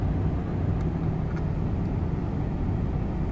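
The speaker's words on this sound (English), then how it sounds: "This is Denver traffic." Steady low road rumble of Denver city traffic on a rainy afternoon, a continuous dense drone of passing cars and engines heard from inside or near the road, with no talking.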